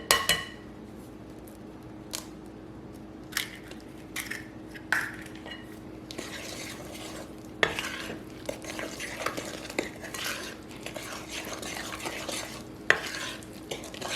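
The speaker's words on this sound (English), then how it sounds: "you just want to incorporate the flour into the sugar, egg, and butter mixture" A spoon stirs flour into a sugar, egg and butter batter for a jelly cake, scraping and clicking against the bowl in irregular close bursts over a steady low hum, with no talking.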